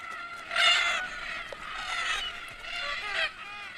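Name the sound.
red-tailed black cockatoos calling at a watering hole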